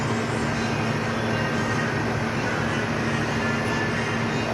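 An exhaust fan runs on a humidity and temperature control chamber, giving a steady, loud, unbroken whir with a faint hum and no pauses from start to finish.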